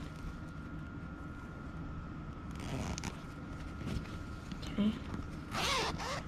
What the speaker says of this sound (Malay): lepas tu kita buka zip ni